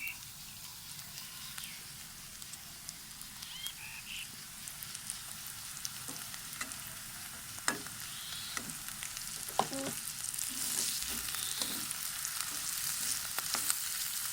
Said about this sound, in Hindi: आलू को थोड़ा सा हम पका लेंगे। लाल मिर्च डालेंगे।